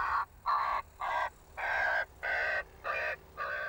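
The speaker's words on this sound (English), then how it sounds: "When you play a distress call," Crow or gull distress call broadcast from a car at an airport runway to scare birds off, heard as seven harsh, evenly spaced caws of steady loudness with brief gaps between them.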